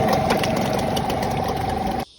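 A Parsun 5.8HP two-stroke outboard motor runs steadily at a close, loud, buzzing idle, then cuts off abruptly near the end.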